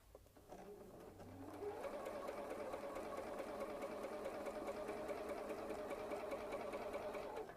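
A sewing machine stitches a quarter-inch seam on a quilt, starting up briefly and then running in one steady, close whir.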